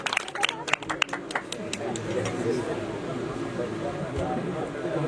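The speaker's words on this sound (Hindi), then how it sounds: "एक दफा भरपूर तालियां हो फयाज बोस्तान भाई के लिए" An audience at a poetry gathering applauds poet Fayaz Bostan: sharp, scattered claps burst up close at first, then blend into a softer wash of crowd noise and murmuring.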